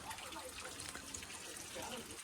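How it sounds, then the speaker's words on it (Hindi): Water runs steadily from a tap at a small roadside shelter by the Pandav Kund in a forest, a continuous splashing gush at even loudness. "पानी भर रही है"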